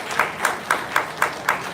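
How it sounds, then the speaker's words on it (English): Applause at a Democratic Party unity breakfast in Washington DC, heard as a few slow, evenly spaced claps in a steady rhythm, moderately loud. "Give him a round of applause."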